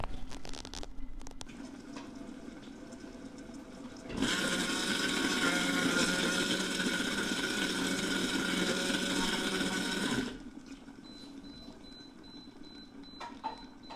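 A Philips soup maker blends apple sauce with a steady, loud whirring roar that lasts about six seconds. The blending starts and stops abruptly, with quieter kitchen background on either side.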